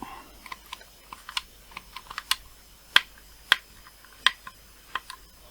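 Keys tapped on a retro computer keyboard attached to a homebuilt 6502 CreatiVision re-creation board, a sparse run of light clicks with a few sharper presses, close and alone.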